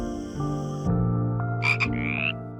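Golden poison frog in a Colombian rainforest, giving a few short croaking calls close by over a steady layered background of insect and forest sound, with higher chirping notes near the end.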